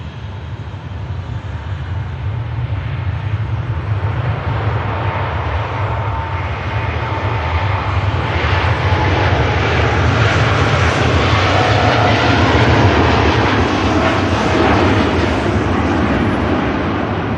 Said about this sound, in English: Dreamliner on the departure roll